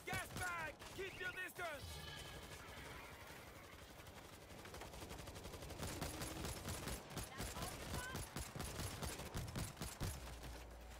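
Automatic turret fire rips through a zombie horde in the shooter World War Z, with rapid overlapping gunshot bursts running steadily and loudly throughout while players talk over the din.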